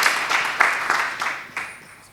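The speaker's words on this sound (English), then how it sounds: "Can you clap hands for Mr." Applause from a conference audience at an occupational health and safety event, a dense burst of clapping that swells in repeated waves and fades over about two seconds, with no talk over it.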